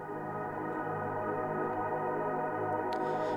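Filtered atmospheric pad drenched in Valhalla Shimmer reverb for an organic house breakdown, a steady, washed-out sustained drone with layered tones, even in level, with a brief bright flicker near the end.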